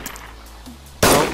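A single loud gunshot in the survival game DayZ cracks out near the end after a quiet stretch of faint background noise, then decays briefly.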